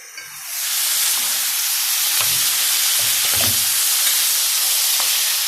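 Chopped vegetables for a crepe filling sizzle loudly in a hot pan, a steady bright hiss that swells up within the first half second and holds, with faint clinks and stirring underneath and no talking.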